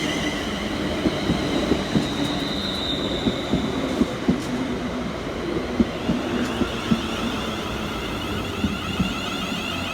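A Scotrail Class 380 electric multiple unit pulls into Paisley Gilmour Street station, its steady rolling rumble carrying rhythmic wheel clicks over rail joints and a faint high whine, with no voices.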